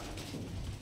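A lot of ten pigeons held in a cage for sale give a brief, soft, low cooing against quiet rustling, lasting under a second.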